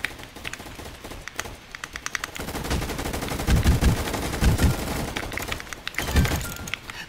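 HK-33 rifle fire in the Roblox game Gunfight Arena, with sustained rapid automatic bursts lasting several seconds. A few brief pauses break them up, and heavier booming hits land midway.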